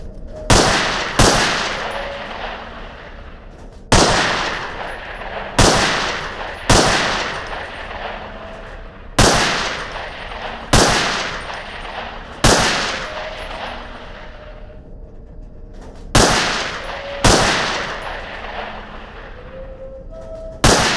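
Rapid bursts of gunfire hit training targets during SWAT training in the game Underhell, about a dozen loud sharp volleys in irregular groups, each ringing off with a short echoing tail.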